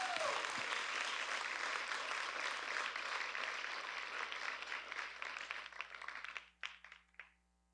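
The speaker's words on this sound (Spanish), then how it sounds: "¿Cuántos le dan un aplauso al Señor por eso?" Applause from a church congregation, a dense sustained wash of many hands clapping that fades into a few scattered final claps near the end.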